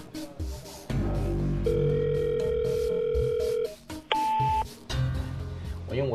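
A mobile phone call fails to connect after the caller has been blocked. A steady held call tone is followed by a sharper, higher beep, all heard over dense background sound without speech.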